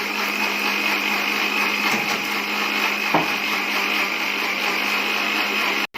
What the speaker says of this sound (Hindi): अब ब्लेंड कर लेते हैं